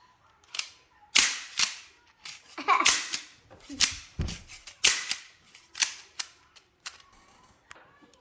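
A Little Tikes Boom Blaster toy gun firing spaghetti noodles, a series of sharp close pops and clicks in uneven succession, with children's voices and laughter around them.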